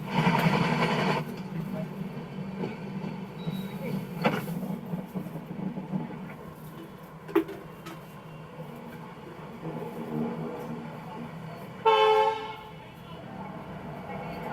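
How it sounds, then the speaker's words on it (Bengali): A passenger train pulls into a platform at Visakhapatnam station, with a low continuous rumble, scattered clanks and loud horn blasts near the start and again toward the end, while voices talk over it. "5 নম্বর প্ল্যাটফর্মে ট্রেন ঢুকেছে আমাদের"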